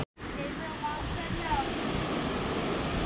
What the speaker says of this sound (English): we see this huge waterfall right there.